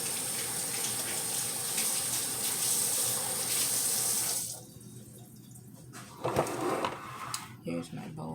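A kitchen faucet runs steadily for about four and a half seconds while hands are washed during a break to make tuna sandwiches, then shuts off, leaving quieter clatter and rustling nearby.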